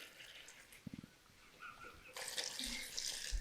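Water is poured into a pot of stuffed grape leaves (dolma) with lemon juice, giving a soft, close splashing and trickling that swells into a steadier pour toward the end.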